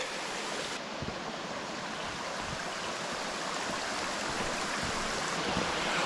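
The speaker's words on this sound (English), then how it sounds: "We've got another little ford across the river here, a little brook." A small brook flows across a river ford on a Brecon Beacons mountain trail, a constant soft rushing and babbling of water heard close and alone.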